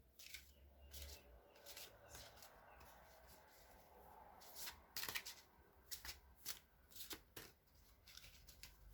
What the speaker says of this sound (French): Je suis en train de mélanger les cartes en restant centrée.